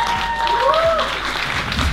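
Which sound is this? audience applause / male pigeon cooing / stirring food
audience applause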